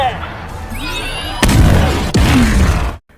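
An ultrasonic wave blast detonates in the film Peacemaker, a loud boom hitting at about a second and a half, followed by a second impact, rumbling debris and a sharp cutoff amid swooping effects.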